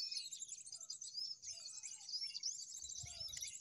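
Prinia songbirds in a graveyard, giving rapid high, thin chirps in continuous busy trills, with a few lower calls and faint low thumps beneath.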